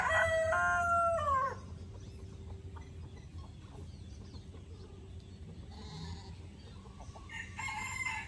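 Silkie hens with their chicks scratching for food in a yard, a rooster crowing loudly at first, then soft clucks and faint peeping from the flock under a steady outdoor background, with a few more calls near the end.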